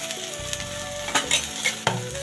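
Whole spices frying and sizzling in a pan for a green chicken sambar, with a steady crackle under occasional sharper bursts of stirring, close and moderately loud, no voices.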